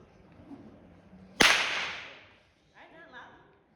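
One sharp, loud whip crack snaps out of near silence and decays over about a second, followed by brief faint murmuring.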